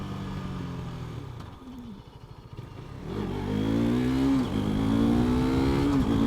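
A 2019 KTM RC 390 motorcycle is ridden through a turn. The single's engine drops back, then rises loud and close as the throttle opens, with climbing rev tones and wind noise.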